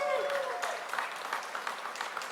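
Applause for the CIAA commissioner at a Baltimore event rises briefly, a crowd clapping in a dense patter that tapers off, with a voice over the start.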